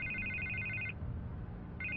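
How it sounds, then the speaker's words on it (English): A telephone rings in the Batman Telltale video game, episode 3, with a steady electronic trill that stops partway through and then starts again, over a low background rumble. "I can't get the phone to stop ringing"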